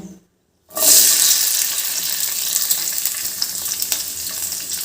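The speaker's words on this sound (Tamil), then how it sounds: "அடுத்து நம்ம கேப்சிகமையும் ஆனியனையும் வதக்கிக்கலாம்" Capsicum pieces hit hot oil in a pan for paneer capsicum masala, a sudden loud burst of sizzling after a brief silence that settles into a steady close frying hiss with light stirring scrapes.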